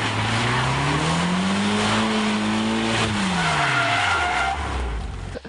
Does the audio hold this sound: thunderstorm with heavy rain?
no